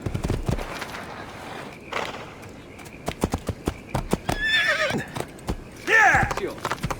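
Hooves clop in a brisk, uneven rhythm as a horse moves in Assassin's Creed 2, broken by two loud, shrill neighs, with game music and effects underneath.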